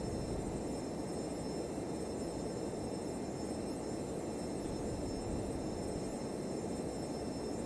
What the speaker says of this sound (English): That's engines.